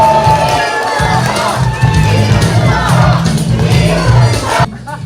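A crowd cheers and shouts at the opening of a Reform Party campaign office in Hwaseong, South Korea, a loud, dense roar holding steady for about five seconds before dropping off abruptly at the end.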